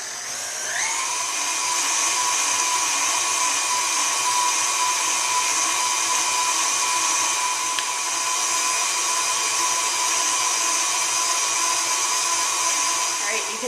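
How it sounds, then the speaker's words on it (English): A KitchenAid food grinder attachment runs steadily as orange slices are fed through, giving a constant loud motor whine with a high tonal hum that barely changes throughout. "we're going to send the orange slices from those 2 oranges right through the grinder"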